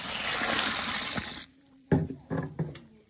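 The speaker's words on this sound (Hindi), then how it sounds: "तो अब इस खनोर को पानी से वॉश करेंगे" Water rushes and splashes steadily over a fermented food mixture being rinsed in a village kitchen, then gives way to a few separate pours and splashes before stopping.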